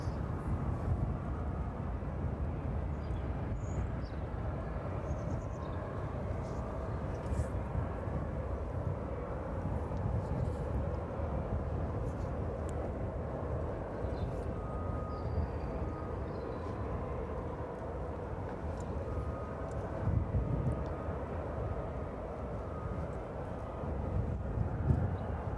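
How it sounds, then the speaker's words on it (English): A Boeing 767 on final approach into East Midlands Airport in the evening makes a steady, distant jet roar that holds for the whole stretch, mixed with low wind rumble. "So A300 will just wait at that holding point while this 767 makes its final approach this evening."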